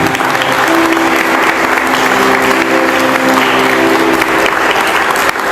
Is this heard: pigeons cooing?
no